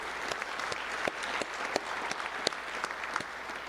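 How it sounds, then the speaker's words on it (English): A crowd at a high school football awards ceremony gives a steady round of applause, moderately distant and even, with sharper individual claps popping out of the wash. "Let's give him another round of applause."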